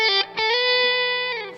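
A sustained, smooth electric guitar note through an overdrive pedal rings out after a few short picked attacks, with rich harmonics and no voices.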